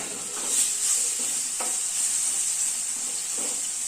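Steady, close sizzling of small banana pieces frying in hot ghee, with a few soft stirring scrapes and no voices.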